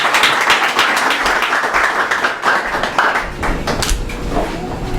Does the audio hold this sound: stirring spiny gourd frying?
no